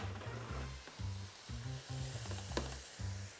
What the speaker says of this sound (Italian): aggiungo il sedano, carota, faccio andare bene.